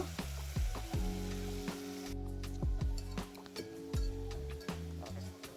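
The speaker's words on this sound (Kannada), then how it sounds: "ಇಲ್ಲಿ ಟೊಮೆಟೊ ಚೆನ್ನಾಗಿ ಮೆತ್ತಗಾಗೋವರೆಗೂ ಚೆನ್ನಾಗಿ ಹುರ್ಕೊಳ್ಳೋಣ" Tomatoes fry in a pan for egg biryani with a continuous sizzle, punctuated by repeated sharp clinks and taps of stirring, with tonal sounds running underneath.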